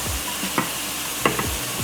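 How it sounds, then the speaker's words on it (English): Broccoli florets tossed into a hot pan, steady frying sizzle with a few sharp clicks and scrapes as pieces land and are stirred, close and moderately loud. "all I'm gonna do is I'm gonna take this broccoli florets that I've cut up"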